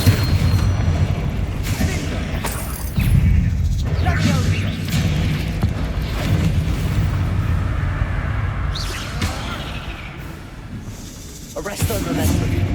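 Spell blasts from the Confringo fire spell in Hogwarts Legacy, a video game, bursting as booming hits amid dense combat noise and a steady music-and-effects bed, with a sharp whooshing flare near the end.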